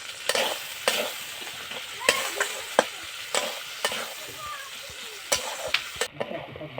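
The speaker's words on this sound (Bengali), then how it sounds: "মশলাটা ভালো করে কষে নেবো।" Spice paste for potato dum frying in a pan while a spoon stirs it: a steady close sizzle broken by sharp, regular scraping strokes about every half second.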